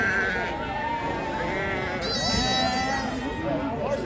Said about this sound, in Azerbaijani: İçində ərəb keçisi də var.